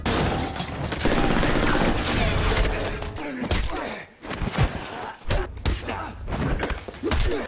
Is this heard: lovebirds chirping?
no